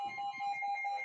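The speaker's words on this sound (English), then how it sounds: "you hear the alarm?" An alarm beeps in a steady, rapid electronic pattern with a clear high tone, loud and close, with no talk over it.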